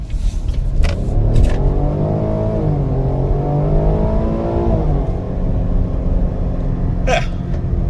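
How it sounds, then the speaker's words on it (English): Cadillac XT6 accelerating hard off the line, a loud steady engine drone climbing in pitch through a gear change, then settling and rising again, heard from inside the cabin. "Let's get a little acceleration off the line here."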